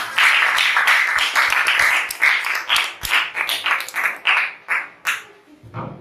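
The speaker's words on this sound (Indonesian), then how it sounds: "Tepuk tangan untuk kelompok" A classroom of students clapping for a group, a close burst of many hands that soon breaks into scattered, uneven individual claps before dying away, with a low thump at the end.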